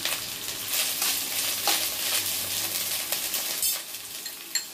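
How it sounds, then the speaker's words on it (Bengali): Cauliflower, broccoli and carrot pieces frying together in a pan, a loud bright sizzle of hot oil with stirring scrapes and a few sharp clicks, no voices. "এগুলো একটু বেশি শক্ত, তাই আগে এগুলোকে দিয়ে ভেজে নিচ্ছি।"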